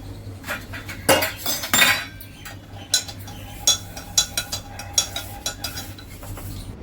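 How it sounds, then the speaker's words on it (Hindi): Metal puja utensils and dishes clink and clatter while being washed, sharp irregular knocks and rings coming close and loud over several seconds, with no voices. "तो वो बर्तन धो रहे हैं"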